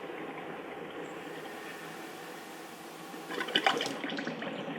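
Water runs steadily with a soft hiss through a countertop drinking water filter, then gushes and splashes more strongly for a moment before settling back to a continuous flow.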